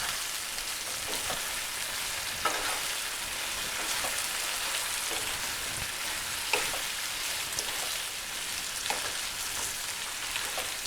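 Diced potatoes for home-style aloo bhujia fry over high heat in a pan, giving a steady, dense sizzle with occasional soft scrapes and clinks as they are stirred, continuous and fairly close.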